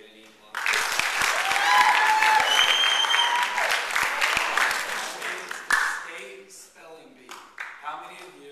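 Camp audience at a main-event gathering breaks into sustained applause and cheering that swells quickly, holds for several seconds, then thins into scattered claps and crowd chatter.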